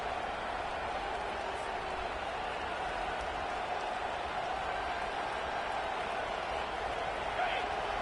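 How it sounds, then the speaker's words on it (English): A stadium crowd at a college football game keeps up a steady, dense roar throughout, a wide wash of massed voices with no breaks. "This crowd bringing the energy and noise early."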